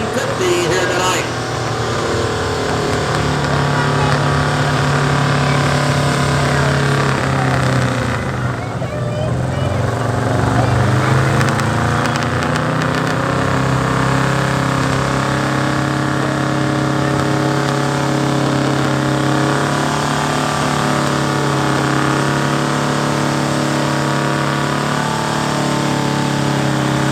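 At a street gas truck pull, a 1976 Ford F-150 engine drones loud and steady for the whole stretch, with its pitch shifting as it strains under load, while an announcer talks over it.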